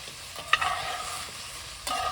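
Ground beef frying in a cast iron Dutch oven gets stirred, a steady sizzle broken by a sharp spoon knock and scraping strokes, close and with no talk.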